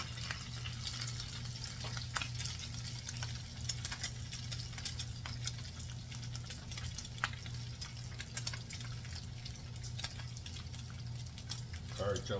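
Home fried potatoes crackle and sizzle steadily in a pan, a continuous bed of frying noise with scattered sharper pops and a low hum underneath.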